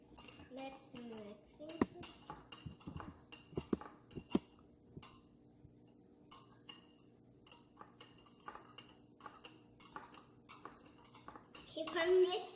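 A spoon clinks and scrapes against a bowl as children mix a sauce on a Korean cooking night, with scattered clatter and the kids chatting throughout.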